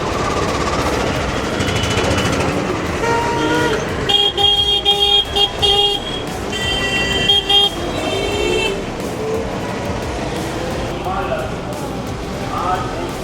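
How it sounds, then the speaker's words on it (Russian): Car horn honking repeatedly without reason from a vehicle moving through a crowded market street in India on a rainy day, a series of short bright blasts amid traffic noise and voices. "Наш водитель просто без причины сигналит."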